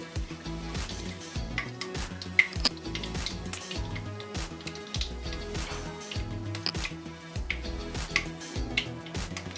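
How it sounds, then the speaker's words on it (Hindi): Mustard seeds, fenugreek seeds, asafoetida and cumin frying in hot oil for Gujarati dal dhokli, with sizzling and sharp popping crackles scattered irregularly over a steady low hiss. "सारे खड़े मसालों में जब तक खुशबू ना आए तब तक हमें इन्हें फ्राई करना है"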